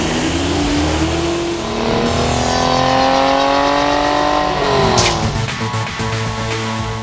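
A 1985 Buick Grand National engine revs loudly and continuously, its pitch sweeping up and down through several climbs with a brief dip before rising again, close and strong throughout with no talking.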